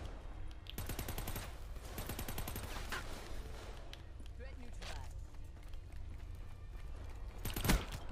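Gunfire in the video game Black Ops 3: bursts of rapid shots and a sharper blast near the end, heard under a man's ongoing speech amid game noise.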